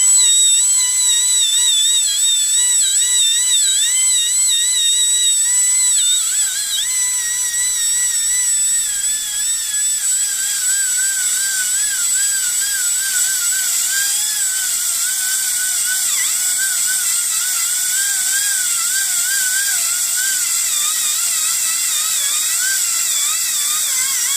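A Maturbine water-cooled drill bores a clean hole in stone under water, giving a loud, steady high-pitched whine with wavering tone throughout, dipping slightly midway and continuing alone without talk.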